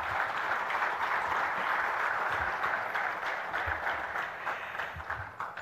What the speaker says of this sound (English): Let's give sir a thunderous round of applause once again.